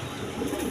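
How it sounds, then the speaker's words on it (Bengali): A red and white pigeon coos softly and continuously, a low murmuring call held close by through the short moment with no voices. "লাল সাদা কবুতর"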